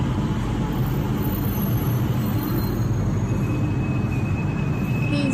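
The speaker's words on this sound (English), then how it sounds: "So this is the SkyTrain." A loud, continuous rumble of the airport SkyTrain running between Terminal 2 and Terminal 3 at Singapore Changi, with a steady rolling drone and a faint high whine near the end.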